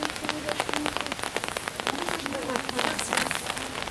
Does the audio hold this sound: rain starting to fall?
yes